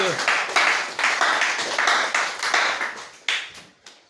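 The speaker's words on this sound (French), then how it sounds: "Acclamez pour Eliou." A church congregation claps in a steady rhythm, with a dense run of bright, evenly spaced claps that fill the space and swell in loudness before thinning out near the end.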